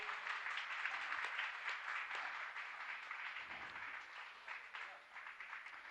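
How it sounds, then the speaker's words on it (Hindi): A gathering at a Jain religious discourse claps in honour of guests, a fairly steady patter of many hands that thins slightly toward the end, with faint voices underneath. "तालियां आपकी बजाएं इनके सम्मान के लिए"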